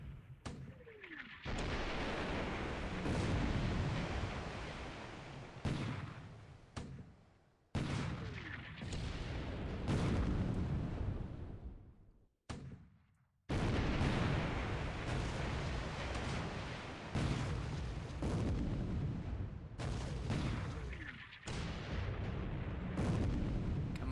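Naval gunfire and shell explosions from War in the Pacific, including 5¼-inch guns firing on the battleship Prince of Wales, as loud rolling booms in long bursts broken by short silences, with no talking.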